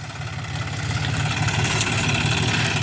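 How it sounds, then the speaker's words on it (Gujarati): A tractor engine runs steadily in a cotton field, a loud continuous rumble that builds slightly and holds at a constant drone. "અહીંયા તમે જોઈ શકો છો ટ્રેક્ટર અહીંયા ચાલે છે"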